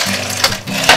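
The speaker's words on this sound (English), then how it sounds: "Fill our glass up with ice." Ice cubes clatter and crunch into a glass at close range, with a few sharp knocks and rattles packed into a short burst.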